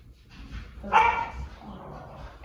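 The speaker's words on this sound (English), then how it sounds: "you're probably going to hear the puppies in the background right now because they're playing together" Puppies play together somewhere in the background, with one brief, faint bark or yip standing out over low room noise.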